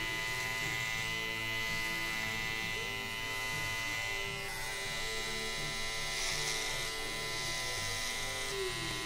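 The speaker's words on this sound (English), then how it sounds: "I'm going to be using an Andis T outliner." An Andis T-Outliner trimmer buzzes steadily as it cleans lines under about two months of beard growth, a constant close electric whine with small shifts in pitch as it moves, no speech.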